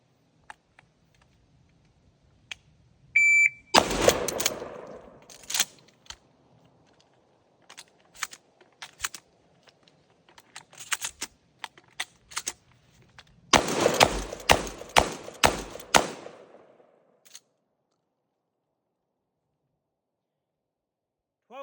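A police Remington 870 12-gauge pump shotgun fires in loud, sharp blasts, an early cluster and then a rapid string of shots near the end, with quiet gaps of pump action and handling between them.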